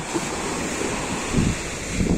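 Warm sea water washes onto a beach, a steady rushing surf with a constant noisy wash and slight swells of intensity, mixed with wind buffeting the microphone and no talking.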